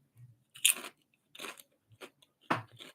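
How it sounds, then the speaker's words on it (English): Someone chews food close to the microphone: several crisp, crunchy bites and chewing bursts in an irregular rhythm, separated by quiet gaps, with no talking over them. "I'm sorry I'm chewing."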